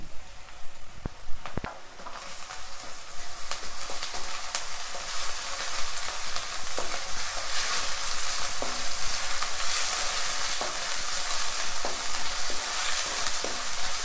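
Ginger garlic paste fries in a hot pan for chicken fry, with a few sharp clinks at first, then a steady, close, broadband sizzle that holds without any talking.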